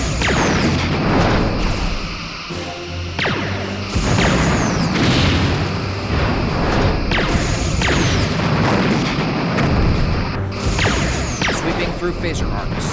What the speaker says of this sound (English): Lining up forward torpedo tubes.